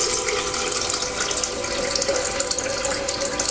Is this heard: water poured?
yes